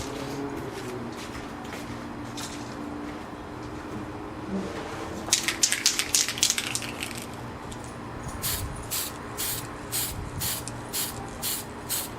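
A spray can lays primer paint onto a model tank in short hissing bursts, several quick sprays followed by a rhythmic series of brief pulses, close and fairly quiet over low background hum.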